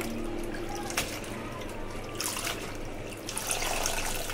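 Running tap water splashes over gongura leaves being washed in a kitchen, a steady faint flow with a few louder splashes and handling noises near the end.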